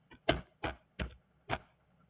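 Four or five separate, evenly spaced keystrokes on a computer keyboard as a password is entered, crisp and close in an otherwise quiet room.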